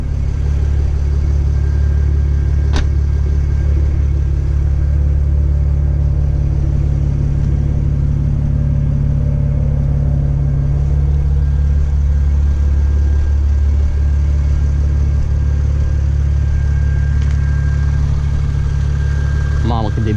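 A car's engine idles steadily after an aggressive drive, a constant low rumble holding close and loud throughout with no revving.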